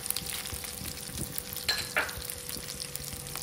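Peanuts and dried red chillies sizzle in a pan, a steady close crackle with a couple of quick scraping stirs partway through.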